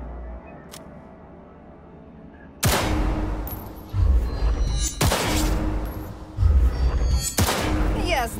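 Cyberpunk 2077 gunfire at a shooting range: a quiet lead-in, then several sharp gunshot bursts with booming low echoes, spaced a second or two apart.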